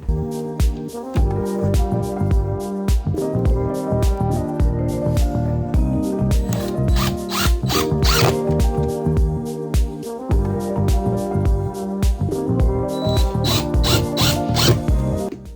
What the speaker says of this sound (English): And we screw it to the floor.